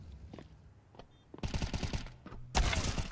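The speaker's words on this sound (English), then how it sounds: "Close range Tech 9 headshots could do a lot" Tec-9 pistol fire in a Counter-Strike match, two loud bursts of rapid close-range shots after a few quieter pops, with no voices over it.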